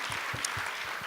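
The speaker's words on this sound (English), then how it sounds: "that deserves a round of applause" Audience applause at a World News Day panel event on telling Indigenous stories, a steady wash of clapping with a few distinct nearby claps standing out and no talk.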